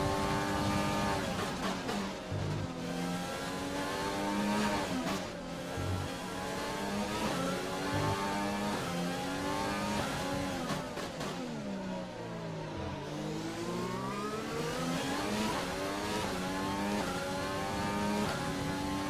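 F1 race cars lapping the Singapore street circuit in the F1 2020 game, engines revving continuously and sweeping up and down through gear changes, loud and steady throughout with no talk.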